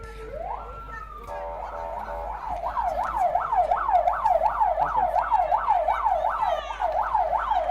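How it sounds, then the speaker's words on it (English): An ambulance siren wails in a steady, rapid rising-and-falling cycle after a brief rising start, loud and continuous through a chaotic emergency-response training scene at a Red Cross graduation demonstration. "The ambulance is here in record time, courtesy of our trained EMTs."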